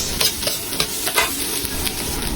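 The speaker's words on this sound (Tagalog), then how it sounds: "nag-prepare na tayo ng kawali at syempre yung atsuete oil. Ayan, at dito natin ikikisa ang ating uh, sibuyas" Onion sizzles steadily in hot annatto oil in a frying pan, a loud, continuous crackling fry broken by periodic scraping strokes as the pieces are stirred.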